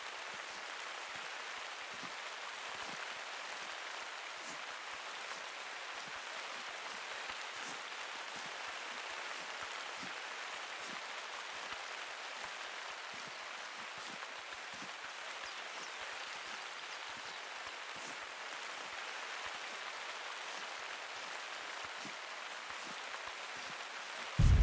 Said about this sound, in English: the rain actually obfuscates your sound as well